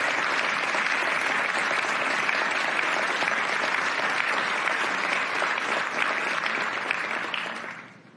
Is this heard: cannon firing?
no